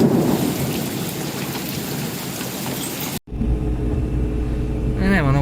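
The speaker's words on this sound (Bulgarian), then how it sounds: "Няма много взе да вали и се отказахме да обикаляме" Heavy rain pours down during a thunderstorm, with a rumble of thunder in the downpour, then a brief cut and more steady rain drumming on a surface up close.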